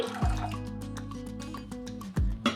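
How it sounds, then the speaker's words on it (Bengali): Rose water is poured into a saucepan while making homemade beetroot Rooh Afza syrup, giving a few close liquid drips and splashes over a steady tonal hum. "এখন দিয়ে দেব গোলাপ জল এখানে দিয়ে দিয়েছি দুই টেবিল চামিচ গোলাপ জল"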